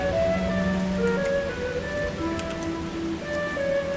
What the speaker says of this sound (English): I think the rain is settling down.